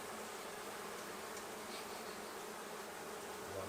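Honeybees buzz during removal of a hive from inside a wall, a dense, faint, continuous drone of many insects with no pauses.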